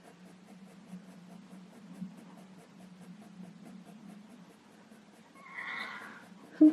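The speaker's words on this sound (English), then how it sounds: "You might be able to hear the horse." A faint, distant horse neighs near the end, a brief rising whinny over a quiet low hum.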